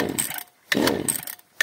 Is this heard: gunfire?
no